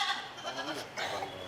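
Goats bleat at a village panchayat goat distribution event in Varappetty, Kerala. A few wavering bleats rise through a steady crowd murmur, and voices talk over them throughout.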